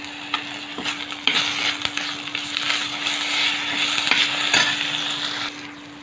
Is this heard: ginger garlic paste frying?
yes